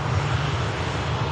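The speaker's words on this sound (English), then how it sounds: "It looks like we've got further Ryanair on finals here." A Ryanair airliner on final approach to Manchester Airport gives a steady, loud jet engine roar with a deep low rumble, continuous over a short stretch.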